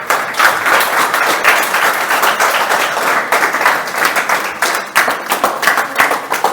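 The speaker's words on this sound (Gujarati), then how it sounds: "તો હવે તાળી વગાડો." Audience clapping in unison at a teenagers' spiritual talk, a dense, steady burst of many hands beating close and loud for several seconds, alone without any voices.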